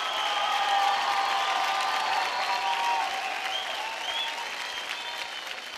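A TV studio audience at a dance competition show applauds steadily throughout, a dense wash of clapping that fades gradually, with faint cheering and music tones beneath.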